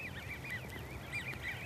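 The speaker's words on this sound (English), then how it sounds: "Beau, look at these ducks." Several ducks calling outdoors, a repeated run of nasal honking quacks at moderate distance over a low background rumble, with no talking.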